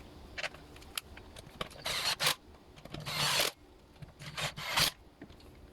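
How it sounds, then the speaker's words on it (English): Three screws driven into the plastic cover of a Homelite Mighty Lite blower, heard as close, intermittent raspy bursts of screwdriver turning with short pauses between them. "Doing the screws here, the 3 screws."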